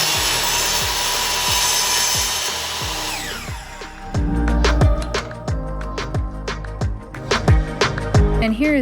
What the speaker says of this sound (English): I had my table saw out and I decided to use that to do the longer side of the notch